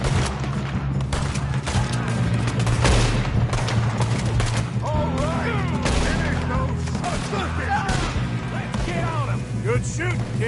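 Gunshots in Red Dead Redemption 2 on PS4 Pro: steady rapid firing from several guns crackles throughout, near and fairly loud, over a dense background rumble, with voices talking at times underneath.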